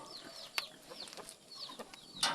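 Chickens on a neighbour's farm cluck quietly in short, scattered bursts, a few sharper clucks popping out over a soft outdoor background, no one speaking.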